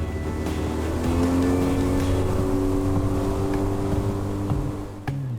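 A small outboard motor on a boat drones steadily at cruising speed of about 31 mph, a constant buzzing engine note close by, easing off slightly near the end.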